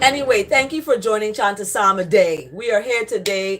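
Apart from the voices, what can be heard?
None of the usual background noises is heard.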